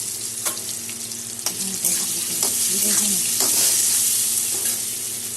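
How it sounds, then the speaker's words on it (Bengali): Small cut potato pieces with turmeric and salt fry in a pan, sizzling steadily as they are stirred, with a few sharp scraping clinks of the utensil over the crackle. "এখন ভেজে দেবো।"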